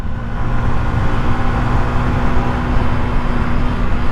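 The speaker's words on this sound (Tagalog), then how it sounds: "sasakyan, may malaking truck, tapos sa likod ko may kotse" Road traffic with passing cars and a large truck, heard from a motorcycle rider's helmet-mounted camera, a loud continuous rumbling drone with steady engine hum and wind buffeting throughout, no talk.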